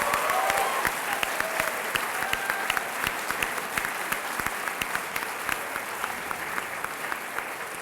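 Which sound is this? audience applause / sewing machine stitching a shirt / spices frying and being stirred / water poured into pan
audience applause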